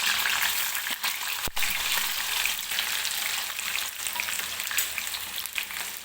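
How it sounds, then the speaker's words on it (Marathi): Chopped onion sizzles in hot oil for spicy dry mutton sukka, a loud, steady frying hiss filling the scene, with one sharp clack of a utensil partway through. "कांदा व्यवस्थित भाजून घ्यायचा आहे तेलामध्ये."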